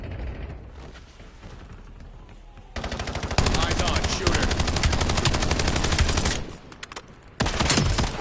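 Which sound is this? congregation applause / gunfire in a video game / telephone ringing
gunfire in a video game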